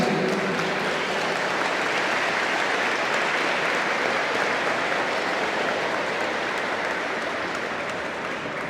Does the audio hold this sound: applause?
yes